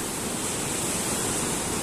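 Rough Mediterranean sea at sunrise, waves and surf making a dense, continuous broadband roar, steady and fairly loud, with no voices.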